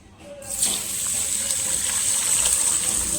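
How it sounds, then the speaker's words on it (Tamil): Tap water gushing steadily into a jug of rice to soak it for mutton boti biryani, starting with a brief trickle then a continuous close, loud splashing stream with no talk. "ஸோ இப்போ தண்ணி ஊற்றி இதை ஊற வச்சுக்கலாம்."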